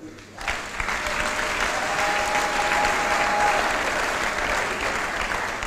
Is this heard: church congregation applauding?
yes